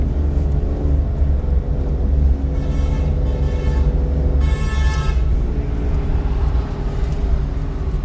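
A car engine hums steadily and strongly at close range, with its pitch shifting slightly as power builds while the car pulls away near a U-turn. A horn-like tonal whine cuts in briefly.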